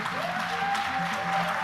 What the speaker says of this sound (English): j'aimerais que l'on applaudisse effectivement ensemble, s'il vous plaît, encore une fois